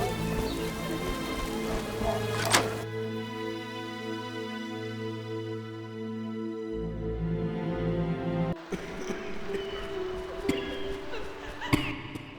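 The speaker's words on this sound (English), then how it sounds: "Hasn't rained hard in a while." Rain falling in The Witcher, steady and fairly loud, sitting under game music with sustained tones and a few sharp accents, without any talk.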